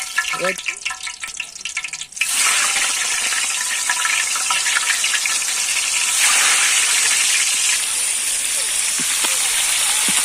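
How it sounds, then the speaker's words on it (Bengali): Marinated magur fish dropped into hot oil in a wok. After a short quieter stretch with a voice, a loud, dense, continuous sizzle rises and holds to the end. "কড়াইয়ে তেল দেওয়া হয়ে গেছে আর এই দেখো মাছটা এবার ভাজা হবে।"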